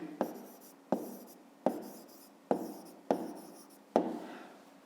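Writing by hand during a fifth-grade math exercise: six crisp, evenly spaced pen strokes, each a sharp tap followed by a short scratchy trail, close and alone with no talking.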